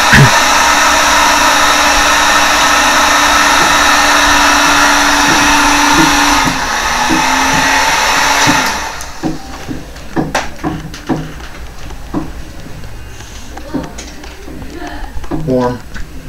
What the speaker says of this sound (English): But the heat gun actually is dangerous